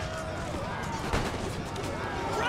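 Cannon fire in the strategy video game Empire: Total War, heard as a muffled burst of booming artillery shots over a dense backdrop of battle noise, moderately loud and brief.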